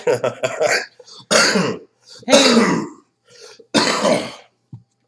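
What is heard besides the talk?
coughing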